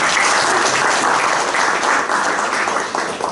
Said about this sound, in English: May I request all of you to applaud.